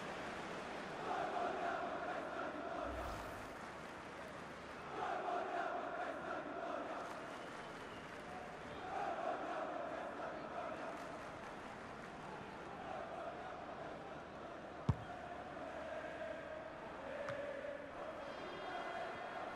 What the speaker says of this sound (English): the crowd were up on their feet there